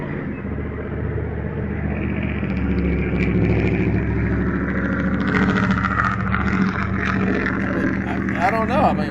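A small truck's engine roars steadily with a rumbling low drone and engine brake noise, loud and continuous, with people talking over it.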